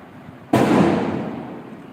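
A firecracker goes off with one sudden loud blast, followed by a crackling, hissing tail that fades over about a second and a half.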